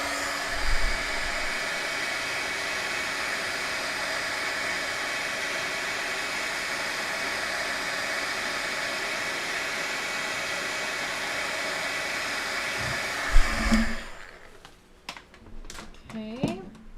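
A heat tool blows a steady, loud whirring hiss of hot air while heat-setting embossing on a card, running continuously before switching off, followed by a few light taps and handling sounds.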